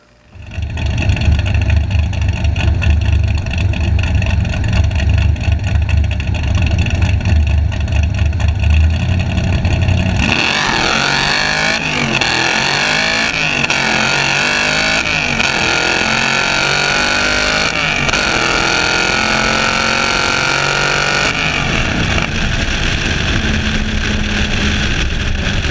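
A project car tears down a drag strip, its engine roaring loud and steady for about ten seconds before the tone shifts into a long rising and falling run of gear changes and revving that continues to the end.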